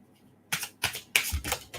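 Tarot cards being shuffled by hand, a series of four or five crisp riffling bursts after a quiet start, close and fairly loud.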